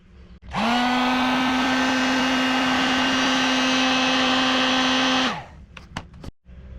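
A heat gun blows hot air onto heat shrink tubing over a crimped wire joint, a loud steady whirring hum that runs for about five seconds, then cuts off and is followed by a few light clicks.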